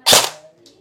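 An airsoft gun fires a single shot through a chronograph, a sharp, close snap with a short ringing tail and no talk over it.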